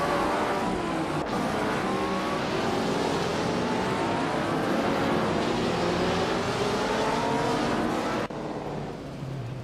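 Race car engines in a racing video game, with a Cooper T77 among the field, drone loudly and steadily with layered rising and falling engine tones, ending in a brief quieter tail near the end.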